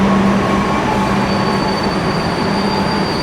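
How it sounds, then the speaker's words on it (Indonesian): The Malioboro Express passenger train from Malang to Purwokerto rumbles loudly and steadily at night, with continuous wheel and carriage noise and a thin high squeal over the rolling roar. "kereta api Malioboro Express dari stasiun Malang tujuan akhir Purwokerto"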